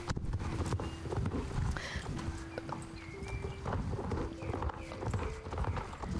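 Pony hooves clip-clop at a steady trot in the Star Stable Online horse-riding game, with brief whinnies and light chiming game tones over a constant backing.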